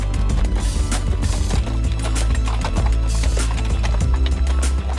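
Horse-drawn carriage rolling among vineyards during a wine-tourism outing, steady hoof clip-clop under a loud, continuous layer of music that largely swamps it.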